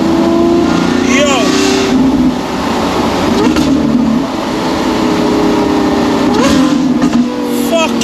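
Straight-piped Lamborghini SVJ Roadster engine on a drive, a loud continuous roar with rising revs and pitch sweeps, heard from close by with excited voices talking over it.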